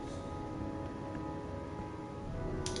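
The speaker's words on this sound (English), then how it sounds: "Hope it stops raining soon." Steady rain falls without a break, a dense even hiss that stays constant throughout.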